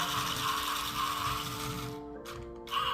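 A small Tomy Plarail toy train motor whirs steadily with a mechanical buzzing drone, close by, the pitch shifting slightly near the end.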